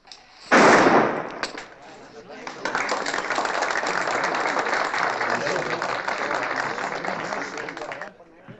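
Gunshots at a shooting exhibition using full loads in an Old West setting: one sharp, loud report rings out, followed after a pause by a long sustained burst of crowd applause and cheering.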